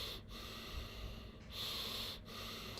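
Forceful, steady breathing during a timed breathing exercise with breath holds, a continuous airy rush broken by two brief pauses, close and fairly faint, with no talking.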